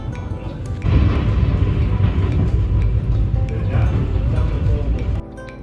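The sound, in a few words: riding an electric commuter train in the Carpathians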